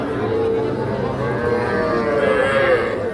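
A young cow or bull calf lets out a long, loud mooing call up close at a busy village cattle market selling small bulls and heifer calves, with faint crowd murmur behind.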